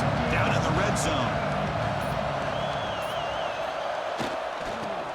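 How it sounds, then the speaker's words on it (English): A football stadium crowd cheering for the defense in the red zone during an AAF game between the Virginia Destroyers and Michigan Panthers, a steady roar of voices under announcer commentary. "the crowd coming to life here, trying to help this defense down in the red zone"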